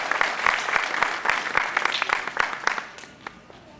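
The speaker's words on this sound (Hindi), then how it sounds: "तालियों से स्वागत कीजिए इनका" Audience applause at a Hindi kavi sammelan (poetry gathering) in Hartford, Connecticut, welcoming a poet to the stage: dense, steady clapping from a crowd with sharp individual claps poking through, tapering off toward the end.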